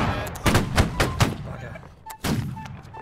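Several sharp musket-style gunshots crack out in the video game Holdfast: Nations at War, scattered irregularly, some in quick succession and one after a short pause, heard over voices shouting in the background.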